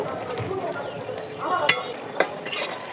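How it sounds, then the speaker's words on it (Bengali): Turmeric and green chilli spice paste fries in a pan with a steady low sizzle, broken by a few sharp scrapes and clinks of a spoon as it is stirred. "এখন এভাবে আমি মশলাটাকে ভালো করে কষিয়ে নিব"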